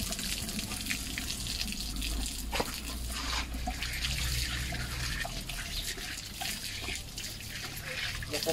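Tap water runs steadily into a sink during a house move in Australia, a continuous broadband hiss with some faint background voices at moderate level.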